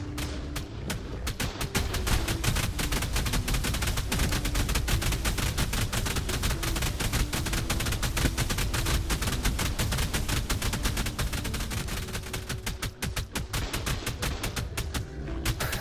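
Sustained heavy gunfire during a base raid in Ark Survival Evolved, a loud, continuous rattle of rapid shots running almost the whole time with only brief gaps.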